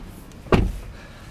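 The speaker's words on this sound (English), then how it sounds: "All right, let's close this door." A Land Rover Discovery HSE Td6 door swings shut with a single solid thud, close and loud, over a quiet cabin background.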